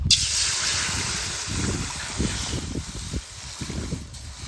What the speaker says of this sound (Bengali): এবার ওই কড়াইতে দিয়ে দিব জল।